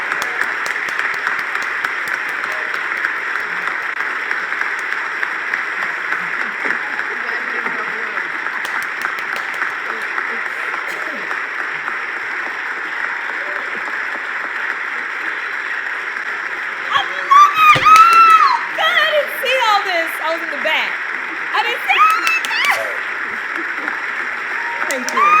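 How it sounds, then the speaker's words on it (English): An audience applauds Mayor Karen Bass in a long, steady wash of clapping heard through a thin, distant pickup, with brief louder voices and shouts near the end. "Let's give her a big round of applause."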